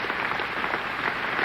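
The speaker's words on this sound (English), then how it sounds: "the whole of the Union standing and applauding this magnificent speech of James Baldwin" A standing audience at the Cambridge Union applauds a speech by James Baldwin during a formal debate, a dense, steady wash of clapping from a large crowd with no voices.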